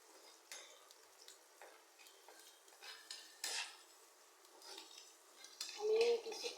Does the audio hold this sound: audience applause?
no